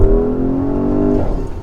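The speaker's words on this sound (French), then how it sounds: "quand je mets pied au plancher c'est une avalanche de puissance" A 680 hp Porsche Cayenne Turbo S hybrid engine pulls hard at full throttle, a loud, steady, deep engine roar that rises briefly and heard close up with no talking.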